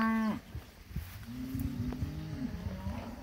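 Cattle in a mob grazing a cocklebur field give a brief moo, then a longer, deeper moo at moderate distance over quiet outdoor background.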